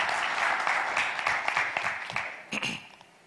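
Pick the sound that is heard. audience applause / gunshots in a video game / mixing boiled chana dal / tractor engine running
audience applause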